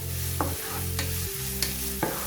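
Potato samosa filling mixed with raw spices fries in a pan, a close, even sizzle punctuated by four rhythmic scraping stirs of a spoon; no talking.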